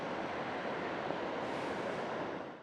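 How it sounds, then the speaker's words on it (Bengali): Water rushes out beneath a slightly raised dam gate, a steady, loud, broadband roar that holds even from start to finish with no voices. "সামান্য গেটটা উঠে আছে, ওর তলা দিয়ে যেভাবে জলটা আসছে"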